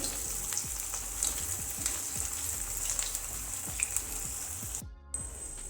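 Manchurian balls frying in medium-hot oil, giving a steady close sizzle with dense popping crackles throughout, briefly cut off near the end before the sizzling resumes.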